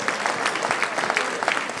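A church congregation applauds the Lord during a worship service, a moderately loud, steady patter of many hands clapping, with individual claps popping out of the crowd texture.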